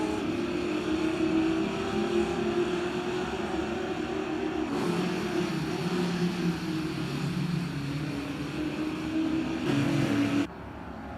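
Open-wheeler race cars roar off the line at a championship race start. A loud, steady engine drone rises and shifts in pitch as the cars accelerate, then cuts off sharply at the end.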